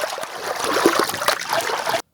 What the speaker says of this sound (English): We have the ability to play in this water splash.